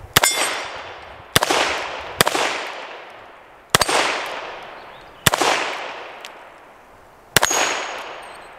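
Six loud .357 Magnum shots from a Taurus 66 seven-shot revolver fired double action at targets outdoors, spaced a second or so apart, each a sharp crack followed by a long ringing decay.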